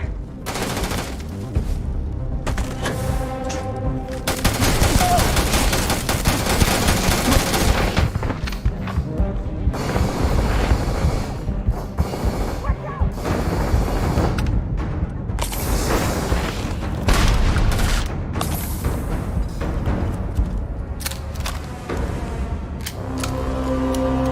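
Dense gunfire from the space shooter game Starfield, with bursts of shots and booms crowding together in a loud, continuous barrage that keeps going and breaks off only briefly; no talk is heard over it.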